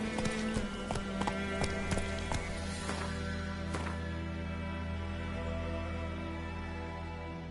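Horse hooves in the Witcher 3 Wild Hunt video game clip-clop rapidly over a steady bed of game music, the galloping beats strong for about four seconds before fading into the background.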